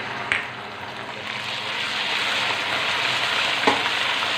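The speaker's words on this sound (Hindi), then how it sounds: "अनियन प्यारी गोल्डन सी ब्राउन हो गई है तो अब we will add 2 spoon ginger garlic paste" Ginger garlic paste sizzles in a pan with golden-brown fried onions, a steady loud frying hiss with faint stirring clicks, for a chicken tikka biryani.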